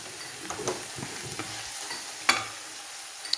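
A spoon stirs a pot of vegetable stew with tender cooked pieces and garam masala, making soft wet scrapes and a few light clinks, one sharper knock standing out against a low simmering sizzle.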